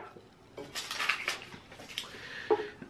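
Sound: handling a red heart-shaped cake pan

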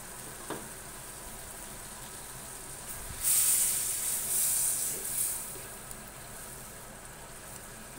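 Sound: prawns sizzling covered in pan with green chilies

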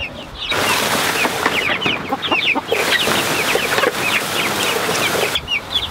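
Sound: Icelandic chickens clucking

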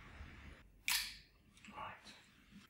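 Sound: film camera shutter being cocked and released

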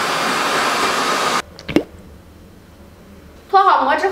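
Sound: hair dryer used to unmold a frozen dessert

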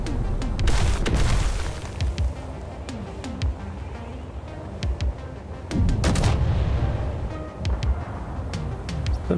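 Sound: gunfire in the video game Space Engineers

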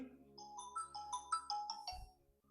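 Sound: phone ringtone

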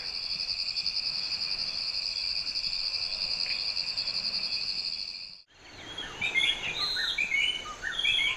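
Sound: insects chirping at night

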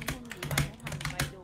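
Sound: loud computer keyboard typing

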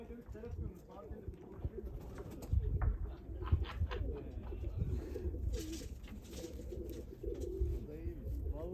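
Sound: tumbler pigeons flying and cooing

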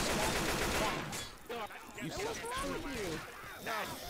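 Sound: gunfire in video game Left 4 Dead 2

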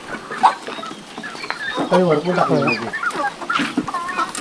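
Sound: hens clucking

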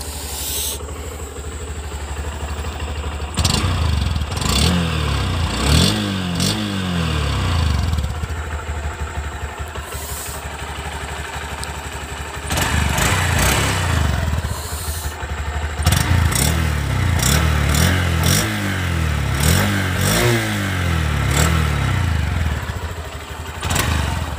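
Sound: 125cc motorcycle exhaust note revving

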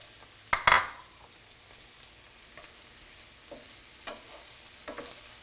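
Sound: frying the stuffing for stuffed peppers

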